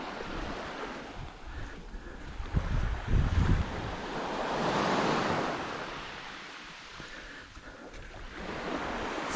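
Ocean waves wash onto a beach in El Nido, Palawan, a broad rolling surge that swells and recedes, mixed with gusty wind noise on the microphone.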